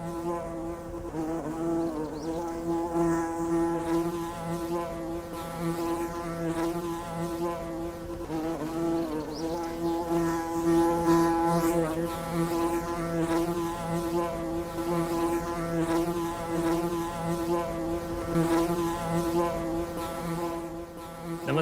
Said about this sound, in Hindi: मंच पे अगर आज मधुमक्खी छूट गई और पकड़ में नहीं आई तो सब भागने वाले हैं।